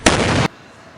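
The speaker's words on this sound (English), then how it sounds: "cue explosion" A sudden loud explosion sound effect bursts out, holds for about half a second as a dense blast, then cuts off abruptly into near quiet.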